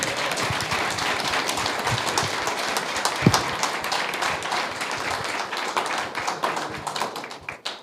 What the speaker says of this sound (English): We're getting a round of applause.